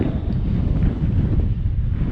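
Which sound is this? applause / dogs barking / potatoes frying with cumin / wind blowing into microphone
wind blowing into microphone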